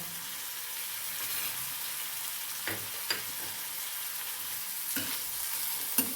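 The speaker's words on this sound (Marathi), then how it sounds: "बघा कांदा पण आपला छान परतत आलेला आहे" Onion sautéing in a pan makes a steady, moderate sizzle throughout, broken by a few soft clacks of stirring against the pan.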